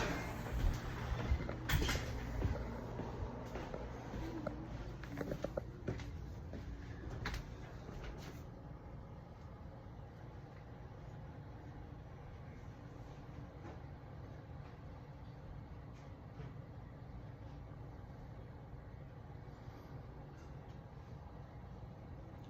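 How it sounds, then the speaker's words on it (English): A home air conditioning unit with a newly replaced capacitor runs with a faint, steady, low hum, with a few light clatters and knocks in the first several seconds. "you can hear my AC running"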